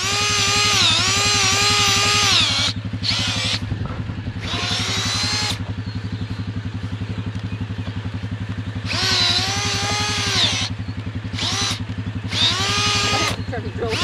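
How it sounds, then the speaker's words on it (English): A power drill bores into wet soil while setting traps, its motor droning steadily and loud up close throughout, while high-pitched whining or calls rise and fall in bursts above it. "The soil's so wet I can't drill a hole."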